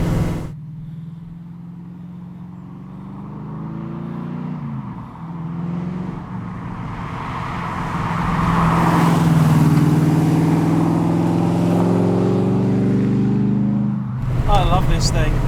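A Cobra sports car's engine rumbles steadily while driving, rising in loudness and revs midway, with a person talking over the noise throughout.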